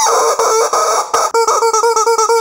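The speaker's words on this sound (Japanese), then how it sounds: "この笛に空気が入ると、フーフーという音が鳴ります。" A squeaky rubber chicken toy's internal whistle, sounding on both inhale and exhale, honks in a long wheezing squawk, then a quick string of about eight short, evenly spaced squeaks, loud and close.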